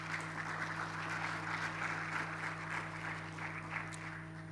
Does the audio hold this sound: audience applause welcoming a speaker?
yes